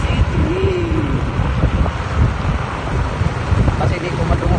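Constant buffeting wind roars against the microphone throughout, a dense low rumble with no pauses, in Tagbilaran City, Bohol.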